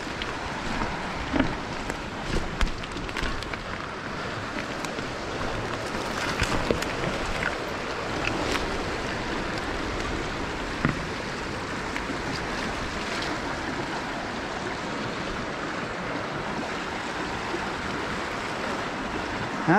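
Steady broadband rush of a stream running high after rain in Judy Woods, a continuous close wash of flowing water with wind and no talk.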